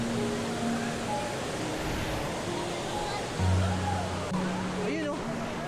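Rushing water from a crowded waterfall at Bongabon makes a constant broad roar, with people's voices and brief tonal sounds rising over it.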